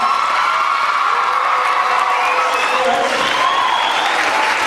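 A crowd applauds loudly, with cheers, whoops and shouting mixed into the dense clapping. The roar stays full and continuous from start to finish.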